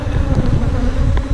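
Honey bees buzz densely around an open hive during maintenance, a close, continuous, loud drone that never lets up.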